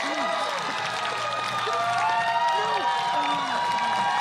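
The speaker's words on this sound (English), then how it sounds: "Round of applause for our engaged couple." A crowd at a Syttende Mai parade in Seattle cheers and claps steadily for a couple who just got engaged, a dense continuous wash of applause with voices calling out over it.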